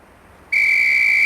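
A sharp training whistle in the police game Police Quest SWAT cuts in after a brief hush and holds as one loud, piercing, steady blast.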